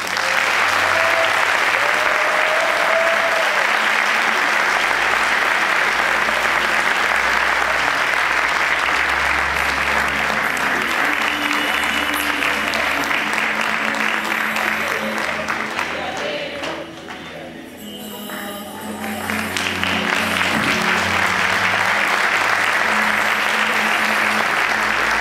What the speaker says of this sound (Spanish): Les invito a ofrecer un gran aplauso para ellos.